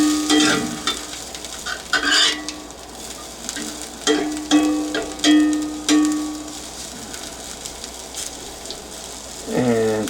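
A carrot, mushroom and broccoli omelette mixture goes into a hot pan, with scraping and stirring strokes over a steady sizzle at moderate volume, close by, with no talking.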